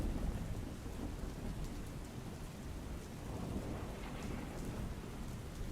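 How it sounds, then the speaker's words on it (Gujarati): Rain falls over villages in Surendranagar district, Gujarat, where roads are flooded: a faint, steady, even hiss of rainfall that runs unbroken throughout. "ગામોની અંદર વરસાદ વરસી રહ્યો છે"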